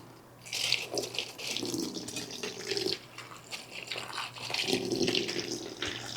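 Running tap water splashes over jalapeno and yellow peppers being washed in a kitchen sink, an uneven rushing stream that swells and eases as the peppers are turned under it, close and fairly loud.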